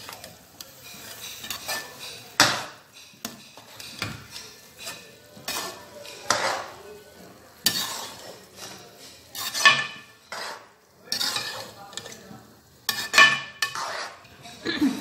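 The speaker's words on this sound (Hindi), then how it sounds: "इसे ऐसे मिक्स, चमचे के साथ ऐसे मिक्स कर लें थोड़ा सा" A spoon stirs jaggery rice in a cooking pot, with repeated scraping and clinking strokes in an irregular rhythm, close up and moderately loud, with no talking.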